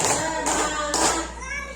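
Three quick rounds of hand clapping by a class group, evenly spaced, with a steady room hum underneath.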